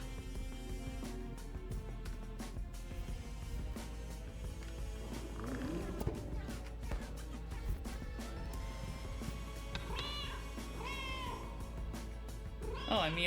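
A person imitates a cat, giving a series of short, fairly faint meows spaced over several seconds, some higher and sharper toward the end, over a steady low hum and scattered clicks.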